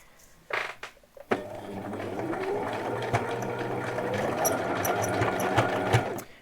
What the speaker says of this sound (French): je vais maintenir et je vais coudre tout le long